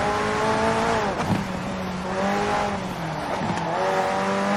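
McLaren P1 GTR with a twin-turbo V8 and electric motor assist in Forza Horizon 4, revving hard and climbing through gears with brief dips at each shift, a loud continuous engine roar with a hint of tire squeal.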